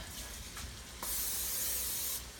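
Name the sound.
spraying grease on baking dish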